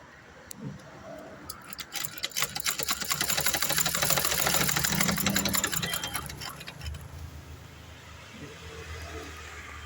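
Domestic sewing machine stitching at a steady rapid rhythm that builds to a loud middle and eases off, with faint rattling around it while a tailor adjusts the stitch tension.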